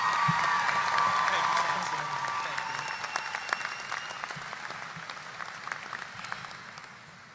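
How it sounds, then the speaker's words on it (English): A university commencement audience applauds in a large hall, dense sustained clapping that starts full and gradually thins and fades, with a few scattered voices underneath. "Please give a rounding applause to Mr. Tyrell."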